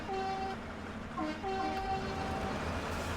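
Truck horns honk in the SnowRunner off-road driving game as tonal blasts, one longer note followed by several shorter ones, over a constant rumbling engine background with no talk.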